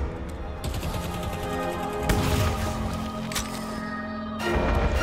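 Gunfire in the shooter game Deadlock: sustained rapid automatic fire with sharp bursts cutting in and out over a steady humming game background, loud and close.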